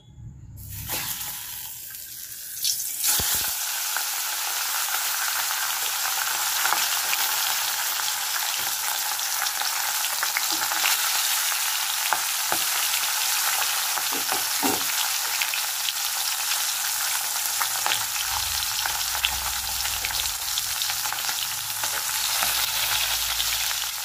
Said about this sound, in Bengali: এবার আমি ইলিশ মাছের মাথা দুটো প্রথমে ভেজে নেব।